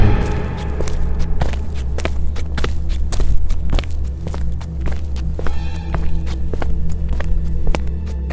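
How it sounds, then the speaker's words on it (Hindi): Footsteps in a hallway at night, a steady run of soft, evenly spaced steps over a constant low hum, fairly close, with no talking. "विराट को ऐसी आवाज़ आती है कि मानो उसके हॉलवे में कोई चल रहा हो।"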